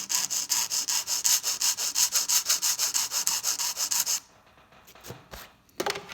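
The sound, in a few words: nail file rough filing an acrylic nail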